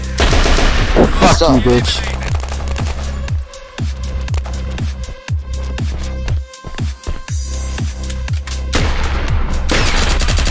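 Rapid, loud gunfire in the online shooter Red Crucible Firestorm, a player's shotgun among repeated sharp blasts that fill the clip almost continuously, with a player swearing over the shooting.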